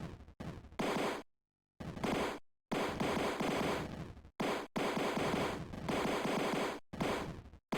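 Rapid bursts of 8-bit gunfire from the 1989 James Bond game 007: Licence to Kill, dense and loud, broken by several short silent gaps between volleys.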